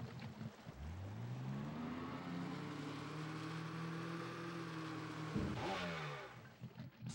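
A jet ski engine in the racing game Splashdown revs and whines steadily, pitch rising, holding, then dipping and surging again near the end, loud and close, with no talking.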